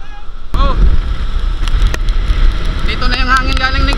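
Strong typhoon wind blows in from Negros during Typhoon Tino, roaring and buffeting the microphone in a loud, continuous low rumble, with people's voices breaking through intermittently.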